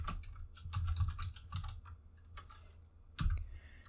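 Fast keystrokes on a computer keyboard, typing a filter into an Old School RuneScape spellbook search, with bursts of clacking separated by short pauses and one louder key hit near the end, no talking.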